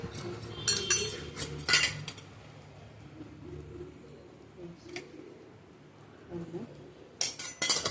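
A spoon stirs turmeric and chili powder into dal sambar in a cooking pot, giving quiet clattering scrapes in short bursts, while pigeons coo softly in the background.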